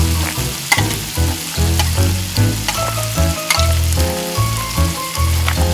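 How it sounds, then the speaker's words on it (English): Octopus pieces sizzle and fry loudly in a pan with a chili sauce, with steady crackling overlaid by repeated scraping strokes of stirring throughout. "Stir well so the octopus absorbs the spices."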